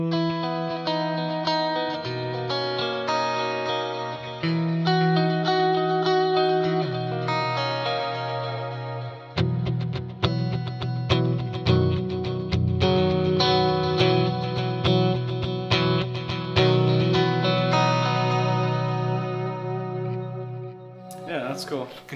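An electric guitar plays sustained chords and single notes through warbling chorus and delay effects, its tone shimmering and echoing continuously with no talk over it.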